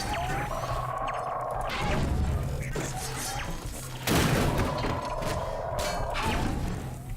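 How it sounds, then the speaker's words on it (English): A grenade goes off in Half-Life 2, a sharp, loud broadband blast about four seconds in. Smaller crashes and thuds of gunfire and impacts surround it in a busy game soundscape. "Now, one of you boys chucked a grenade at me"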